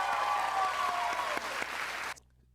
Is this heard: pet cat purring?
no